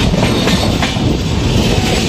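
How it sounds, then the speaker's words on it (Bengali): Dhouli Express rolling into Haridaspur station, heard from inside a third AC coach: a loud, continuous rumble of wheels and carriage noise with no talking. "হরিদাসপুর স্টেশনে ট্রেন ঢুকছে"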